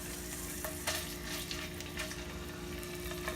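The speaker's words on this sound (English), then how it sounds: "We just want that to fry and get a little color." Red Thai curry paste frying in a pan, a steady close crackling sizzle with a few scrapes as it is stirred, continuous and unbroken by speech.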